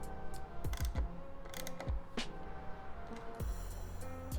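A hand ratchet tightens screws on a 2024 Ducati Hypermotard 698 Mono during a parts install, giving quiet, close bursts of clicking with short gaps between.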